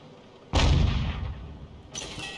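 SU-8 self-propelled gun firing in a tank video game: one loud, close boom with a sharp attack that rumbles and decays, followed by a second, softer report near the end.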